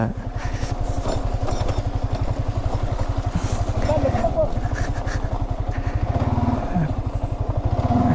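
A faulty motorcycle engine under throttle runs with a steady, rough chugging that holds throughout, loud and close, with some abnormal rattling clatter riding on top.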